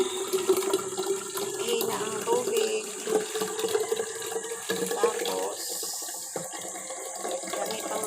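Water runs steadily into a gallon container, a continuous splashing stream with a rising tone as it fills, with some background noise and clatter.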